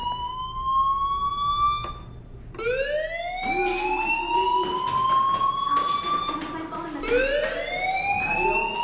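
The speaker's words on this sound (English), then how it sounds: "do you hear that fire alarm? That means you should be outside." A fire alarm in the video game Life is Strange wails in rising sweeps, loud and continuous, repeating several times across the clip with no talk over it.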